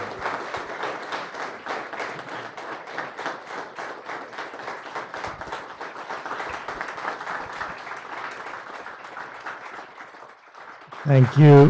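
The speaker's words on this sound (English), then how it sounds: "round of applause to her" Audience applause at a community prosperity breakfast during an award presentation, sustained clapping from a crowd filling the room for about ten seconds before a voice and louder sound cut in at the end.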